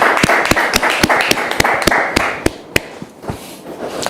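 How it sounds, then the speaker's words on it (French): Studio audience on a television set claps in a brisk, uneven burst, with many sharp hand claps close together at a loud, steady level and no talking. "tous ceux qui sont sur le plateau ont applaudi pour vous dire qu'on vous aime très fort"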